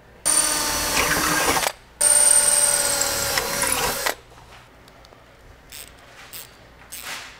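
A power drill bores a hole through the slotted area of a fifth-generation Camaro's drag wing strut, running loud in two bursts of about a second and a half and two seconds, then stopping to quiet with faint clicks.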